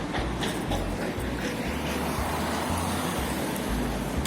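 City bus number 45 approaches along a street, its engine a loud, steady low rumble mixed with continuous traffic noise and a few faint clanks, no talking.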